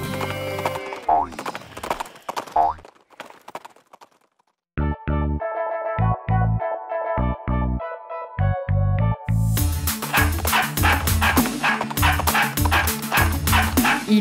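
A children's farm song about dogs plays with cartoon barking sound effects, woof sounds repeated among horse clip-clops and neighs, loud and layered over bright music.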